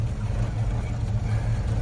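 A vintage 4x4 engine idles close by in cold rain-and-snow weather, holding a steady, low, throbbing hum with no change in pace.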